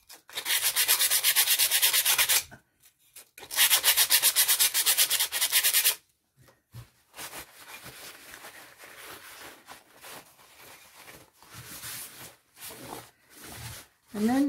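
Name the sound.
sanding coaster edges with fine grit sandpaper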